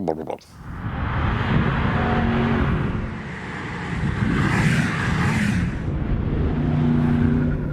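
A BMW M850i coupé with a valved exhaust rumbles steadily with a deep, throaty exhaust note that swells and settles, idling and revving nearby without pause.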